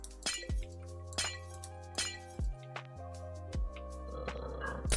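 In Minecraft, cyan glass blocks are placed one after another, giving a series of sharp, close glassy clinks at a steady, unhurried pace over a low background hum.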